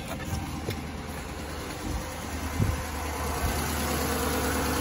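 A car engine with 148,000 miles, suspected of a failed head gasket or oil cooler problem, runs at a steady, fairly quiet idle with a constant low hum and slight vibration, close by and without talk.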